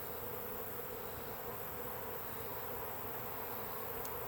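Honey bees fan at a swarm box in a dense, continuous buzzing drone that holds steady throughout, close and unbroken.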